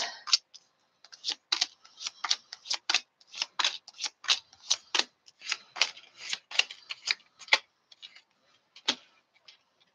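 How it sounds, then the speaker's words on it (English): Tarot cards being shuffled in quick riffling bursts, a steady run of crisp flicking pulses close by with brief pauses, no voices. "I'm shuffling now."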